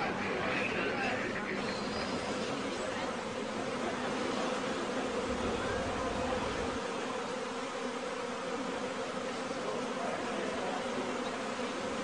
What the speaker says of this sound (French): Cet essaim n'a pas de miel à protéger et il est très rare que les abeilles attaquent dans ce cas.